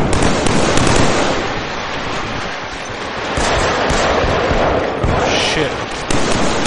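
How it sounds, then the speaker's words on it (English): Mortar strikes in the video game Killzone 3 burst as dense, crackling explosions that pile into a continuous loud barrage, with voices talking over the din. "Where did all these freaking mortar strikes go?"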